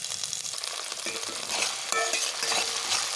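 Ginger garlic paste frying in hot oil with green chillies and onions for egg fried rice, a dense crackling sizzle that swells louder halfway through as the pan is stirred.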